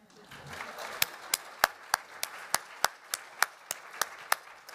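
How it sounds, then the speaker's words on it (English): An audience at a fall meeting session claps in a sparse, rhythmic way. About a dozen sharp claps come at an even beat over a soft murmuring background, and nobody talks over them. "And you can clap on that one."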